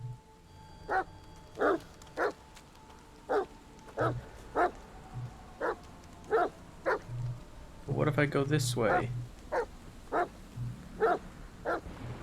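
A dog in The Medium video game barks in a regular series of sharp yaps, close and moderately loud, with a brief burst of louder barking midway while a person talks over it.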